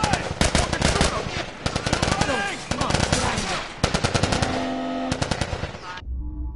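Rapid bursts of automatic gunfire crackle in an action scene from The Last of Us episode 1. The shots are loud and come in dense volleys with short pauses between them, and a shouted voice cuts in briefly.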